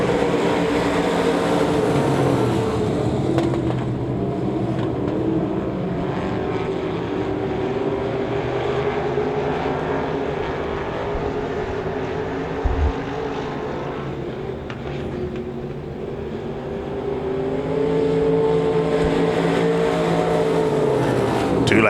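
USRA Limited Modified race cars roar around a speedway oval in a heat race, a continuous layered engine drone that swells and fades as the pack passes, with a brief thump midway and crowd-level ambience throughout.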